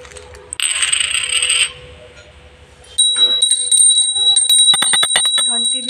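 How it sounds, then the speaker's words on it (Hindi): A small bell rings with bright metallic tones, then a quick series of sharper jingling strikes, loud and close, without speech. "घंटी भी ली है, घंटी मेरे पास दो दो है।"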